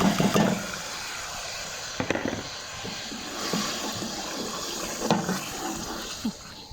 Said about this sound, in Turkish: Domateslerimi ekleyeceğim.